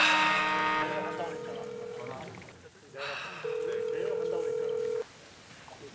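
A phone call to a father rings out unanswered, a steady electronic ringback tone sounding in two long pulses with a gap between them, while people talk excitedly over it.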